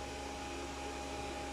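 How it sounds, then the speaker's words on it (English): A steady, faint whir of cooling fans from a cryptocurrency mining rig in a workshop, a constant airy drone with no change or pauses. "That's the fan noise from my rig."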